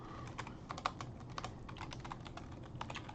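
Fingers tap quickly on a computer keyboard, close up, in irregular bursts of crisp clicks with a few louder keystrokes, no voices.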